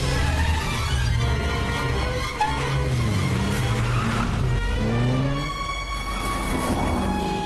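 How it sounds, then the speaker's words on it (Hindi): An auto-rickshaw swings around in a hurried chase, its engine droning and shifting in pitch as it turns, close and steady, with road noise and no talk. "तुम ऑटो घुमाओ।"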